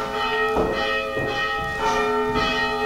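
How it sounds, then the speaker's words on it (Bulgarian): A church bell rings with slow, regular strokes, each loud peal leaving a long humming resonance that carries into the next. "Да, имаше камбана."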